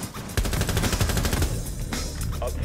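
Rapid automatic gunfire from Rainbow Six Siege rattles in a fast, steady stream of close, loud shots, thinning toward the end.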